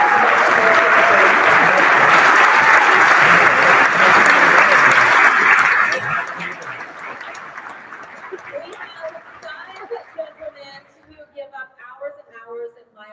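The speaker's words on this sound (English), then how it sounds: "Kids, give your parents a round of applause" Loud applause from a band concert audience cheering parents, dense for about six seconds, then fading into scattered claps and crowd murmur with voices talking.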